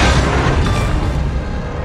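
A ship explodes and sinks as an enemy destroyer is destroyed in a naval video game, one loud, deep, rumbling boom that rolls on for about two seconds with no talk.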